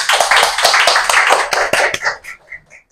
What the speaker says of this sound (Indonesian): Boleh minta tepuk tangan ya?